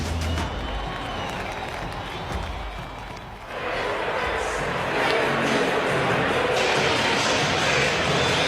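Stadium crowd at a Seattle Mariners playoff game against the Toronto Blue Jays, a distant roar of cheering and applause that swells louder partway through and holds steady.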